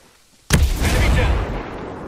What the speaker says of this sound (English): Grenade! Grenade! Hit the deck!